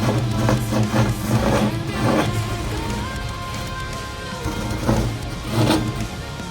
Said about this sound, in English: Back it out of the garage now and load it on the truck.